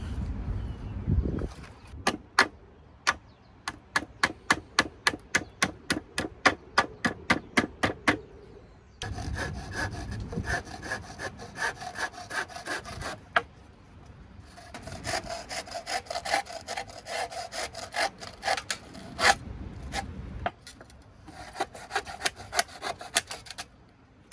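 Chicken wire being cut into pieces for badger protection around fruit on an allotment, a run of sharp rhythmic snips followed by rougher rasping and rattling of wire, close and fairly loud, without speech.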